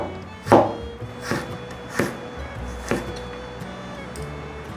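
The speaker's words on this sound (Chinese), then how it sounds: "把姜切片" A knife cuts fresh ginger into slices on a wooden cutting board with four evenly spaced close thunks, quiet between strokes, heard alone without talk.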